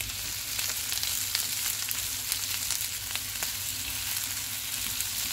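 Chicken pieces and bell peppers fry in oil in a pan, giving a steady, even hiss and crackle with faint scattered pops, close and continuous with no talk.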